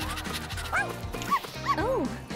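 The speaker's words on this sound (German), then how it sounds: "Schau, ein Welpe." A small puppy gives a few high yipping barks and whimpers, close and fairly loud, over a busy background of cartoon-style music and bustle.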